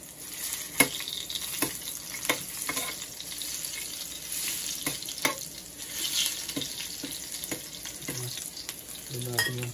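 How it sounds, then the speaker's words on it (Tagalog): Garlic, onion, ginger and chili sauté in a pan with a steady close sizzle, punctuated by several sharp clanks of a utensil stirring against the pan. "Gigisa lang natin tong mga ingredients natin."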